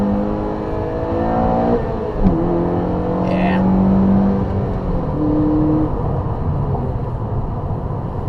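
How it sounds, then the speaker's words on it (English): A Honda Civic Si revs high, its engine note climbing and holding in sustained whining tones with shifts between steps, loud and close under brief talk. "you got to rev the nuts off of it"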